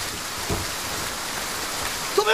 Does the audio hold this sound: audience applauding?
no